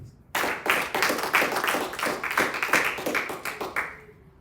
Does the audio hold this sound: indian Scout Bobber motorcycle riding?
no